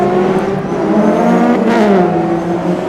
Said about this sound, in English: There's whistling superchargers down there, aren't there? There's the Wankel rotary engine, I think, in Tiger's car.